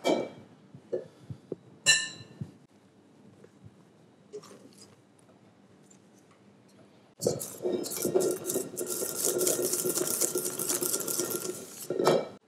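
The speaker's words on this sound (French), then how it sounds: "on va profiter de la chaleur du sucre pour cuire nos œufs au batteur" An electric mixer beats eggs with hot sugar for a pâte à bombe, whirring steadily and fairly close for the last five seconds after scattered clinks of kitchen utensils.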